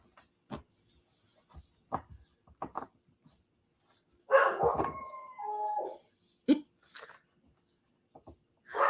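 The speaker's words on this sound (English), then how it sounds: "I have no idea what that bark means" A pet dog gives a few short, scattered barks and one longer howling, yowling vocalization near the middle, close and fairly loud, with quiet gaps between sounds.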